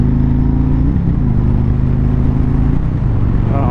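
A 2020 Harley-Davidson Road King S touring bike accelerates nearby, its deep engine rumble holding steady and then dropping in pitch at each gear change.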